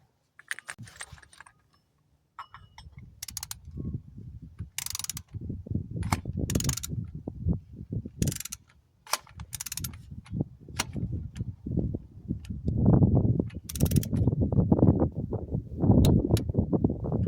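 A torque wrench on an oil filter tool tightens the oil filter of a Yamaha Grizzly 660 ATV to spec, giving close mechanical ratcheting and clicking with handling knocks, steady over most of the stretch with no talking.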